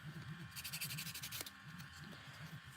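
Steady back-and-forth rubbing strokes of sandpaper on a small piece, close and quiet, with a brief sharp scrape partway through.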